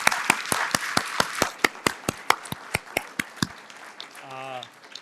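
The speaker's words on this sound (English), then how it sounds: "How about a round of applause for our panelists?" Applause for a panel at a Transylvania Partners for Democracy forum: sparse, sharp individual claps in a steady run of about a dozen, fairly close, ending in a brief voice.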